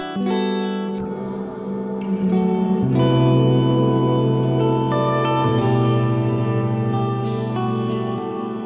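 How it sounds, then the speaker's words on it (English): Sustained tones pass through a combined delay and reverb plugin effect, producing layered echoing chords that shift pitch every few seconds and ring out loudly with a long smeared tail. "So it can be turned also into a delay, pretty much, delay and reverb."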